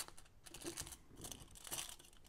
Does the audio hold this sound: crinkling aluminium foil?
yes